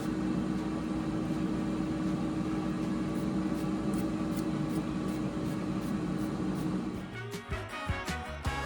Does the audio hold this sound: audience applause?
no